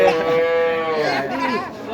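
Cattle at a calf trading place give a loud, drawn-out moo that rises and bends, heard close by over faint background chatter.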